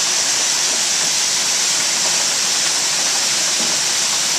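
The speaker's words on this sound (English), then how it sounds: "So maybe it's going to help if we can just hang on for the rain, which will go for a couple of more hours." Floodwater surging through a river swollen well above its usual bank during heavy summer rain, a loud, steady broadband roar that holds unbroken throughout, close and with no voices.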